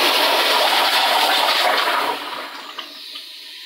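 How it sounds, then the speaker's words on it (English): A 1.6 gpf Crane Placidus toilet flushes in a loud, close rush of water for about two seconds, then fades to a quieter trickle and gurgle as the bowl refills. "This is a normal flush."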